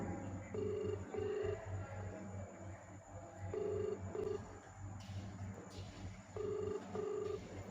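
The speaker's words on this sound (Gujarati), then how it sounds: "ફરી વાર રીંગ વહી ગઈ છે" Paired ringback tones from an unanswered phone call repeat at a steady interval, quiet and thin over faint background noise, three ring cycles in all.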